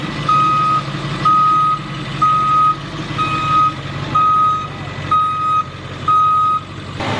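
A truck's backup alarm beeps loudly and close in a steady, evenly spaced series of seven or eight tones, heard over the low rumble of the idling engine.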